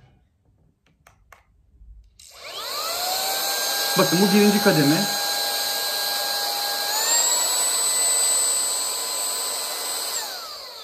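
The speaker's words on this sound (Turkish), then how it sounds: "ben süpürgeyi şöyle bir çalıştırayım, sesini duyun" A Lydsto Duo Plus cordless car vacuum motor starts up on its first power level with a rising whine and runs steadily, its pitch stepping higher near the end as it switches to the second level; someone speaks briefly over it.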